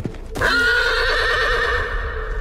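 A horse lets out a loud, drawn-out whinny close by, shrill and wavering, after a brief soft thump at the start.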